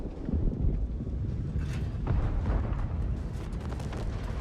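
Heavy tank cannon fire in a World of Tanks-style battle game, deep booming blasts rolling into a rumbling low roar, loud and close, with no talk over it.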